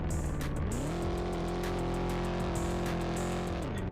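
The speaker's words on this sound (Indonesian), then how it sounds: "Untuk suara mesinnya ini halus sekali ya guys ya, padahal mesin V8 khas Amerika." A smooth, deep American V8 engine of an SUV in a video game hums steadily, revving up briefly at the start and holding a constant drone before easing off near the end.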